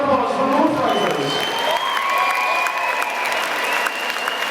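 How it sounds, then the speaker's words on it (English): Crowd at a fight event applauds and cheers for both fighters, sustained dense clapping with a loud announcer-style voice and tonal music or sound effects layered over it. "please a massive round of applause for both fighters"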